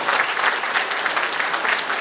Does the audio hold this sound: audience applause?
yes